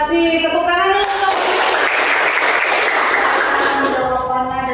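Students in a classroom clap together in a burst of applause that swells in the middle and fades, with voices speaking before and after it.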